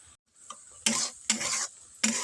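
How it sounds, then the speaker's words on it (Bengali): Sour leaf chutney with dried chilli being stirred with a spatula: three strong scraping strokes, each a broad rasping burst of about half a second, close and loud, with quieter scraping between them and no talking. "শুকনো লঙ্কা দেওয়ার পরে আমি একটু খুন্তির সাহায্যে নেড়ে চেড়ে দিই।"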